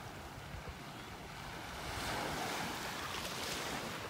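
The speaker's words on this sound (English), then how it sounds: "it's just some swells in the water." Ocean swells and surf at a Gulf beach in Naples, Florida, a steady soft wash of waves with wind noise on the microphone, swelling slightly louder midway, with no voices.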